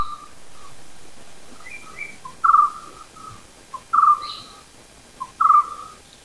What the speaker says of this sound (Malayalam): ഞങ്ങളുടെ നാട്ടിൽ അതിനെ പറയുന്നത്, ആ ഒരു പക്ഷിയെ പറയുന്ന പേര് കുട്ടൂർണ്ടൻ എന്നാണ്.